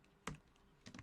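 Typing on a computer keyboard, with two short bursts of clicking keystrokes close by over quiet background.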